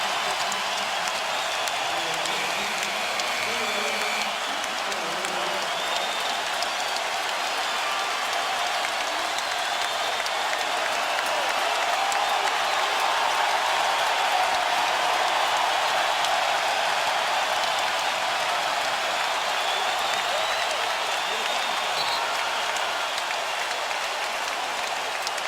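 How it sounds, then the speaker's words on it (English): NBA Finals basketball arena crowd roars and applauds continuously as star players leave the game, a dense, sustained wash of cheering and clapping throughout. "The foul called, and now Dwyane Wade and LeBron James will come out of the game to the roar of the crowd."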